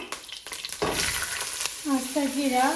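Whole cumin seeds hitting hot ghee in a pan, a sharp burst of sizzle and crackle with stirring scrapes, followed by a short tonal squeak near the end; close and fairly loud.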